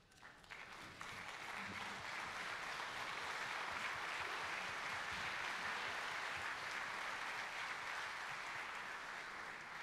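A standing audience at a church general assembly claps steadily and loudly for about nine seconds, a dense, even wash of applause that begins after a brief lead-in.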